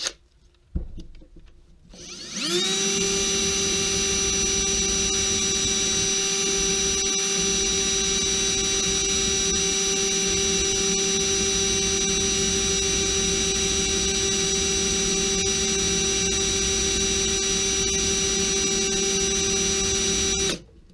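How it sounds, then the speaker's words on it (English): A homemade motorized buffing wheel loaded with hard metal polishing compound spins up after a brief clunk and runs with a steady, loud, sustained whine, polishing an axe head, with no voices. "all I'm going to do is basically just buff it"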